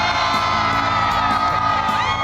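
Large Texas crowd gathered outdoors for a home makeover reveal, cheering and whooping loudly and continuously, with many overlapping shouts and high yells throughout.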